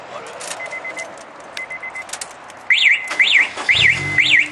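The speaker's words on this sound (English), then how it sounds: "And it's an alarm." A Honda S2000's car alarm chirps rapidly, then breaks into loud rising-and-falling siren whoops repeated four times, close by after a few quieter beeps.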